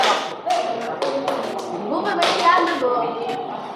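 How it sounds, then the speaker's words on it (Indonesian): A group claps together to applaud the second discussion group, a dense patter of hand claps blending with overlapping voices and chatter throughout. "beri tepuk tangan untuk kelompok 2"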